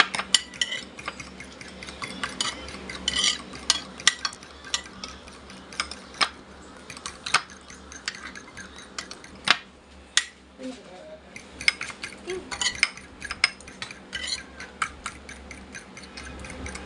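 Banana cake batter stirred in a bowl, with light, irregular clinks and taps of a utensil against the dish repeating throughout, fairly quiet, while voices talk nearby.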